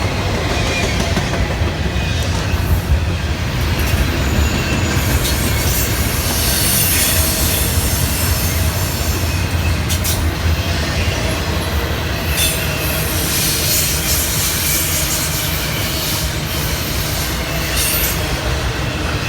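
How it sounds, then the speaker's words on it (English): An international intermodal freight train rolls steadily past nearby, a continuous loud rumble of wagons and wheels with intermittent metallic wheel squeal, unbroken for the whole stretch. "C710 is an international intermodal train that runs between Fairburn and Chatsworth for"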